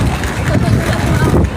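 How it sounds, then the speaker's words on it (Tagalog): Strong outdoor wind buffeting the microphone, a continuous loud low rumble and roar throughout with voices talking over it. "Ay, grabe yung hangin"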